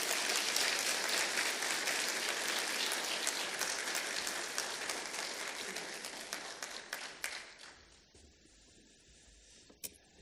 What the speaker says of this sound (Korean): 목사님 보내주신 하나님께 감사 찬양으로 박수를 드리겠습니다.